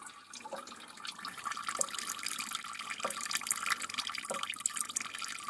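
Water runs from a tap into a bucket during heating plumbing work, a continuous faint hiss and splash with occasional soft drips or clicks, and no speech.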